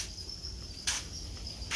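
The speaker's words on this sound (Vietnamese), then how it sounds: "Đây là một chuồng dế đẻ nữa nè." Golden Thai crickets in a breeding cage at a cricket farm in Củ Chi make a dense, steady high-pitched chirring, with brief louder bursts standing out from the continuous drone.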